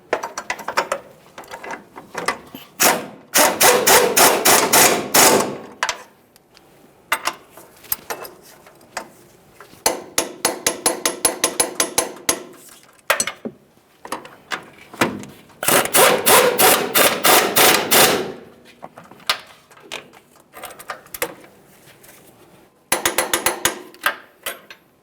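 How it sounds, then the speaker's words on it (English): Ratchet tightening the upper control arm bolts on a 2015-2020 Ford F-150: close, loud bursts of rapid clicking come in several runs with short pauses between, and no talk. "we'll continue on snugging each one of these bolts"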